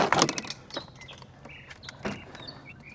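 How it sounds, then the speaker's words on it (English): Plastic clips snap and creak as a car door panel on a Lexus GX460 is pried loose, with a sharp crack at the start, another near two seconds, and faint squeaks between. "To fully remove the door panel, we're going to pull up on the door panel."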